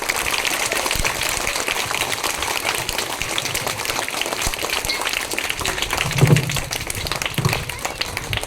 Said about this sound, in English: Let us welcome them with your huge round of applause.